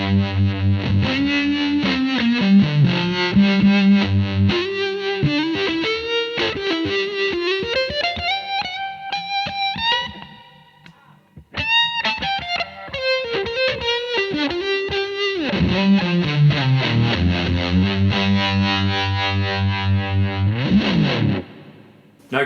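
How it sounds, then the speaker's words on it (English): Electric guitar driven hard through an MXR Gypsy Fuzz with Strymon Big Sky reverb and Mobius modulation, playing a loud, sustained distorted melodic lead with bends and a lush chorused wash, continuous apart from a short dip midway. "especially with a little bit of drive behind it as well, or quite a lot of drive in this instance, coming from the Gypsy Fuzz from MXR"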